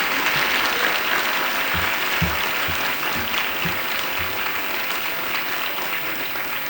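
Sustained, loud audience applause fills the hall at an annual day function, a dense, even roar of many hands clapping throughout with a few low thumps mixed in.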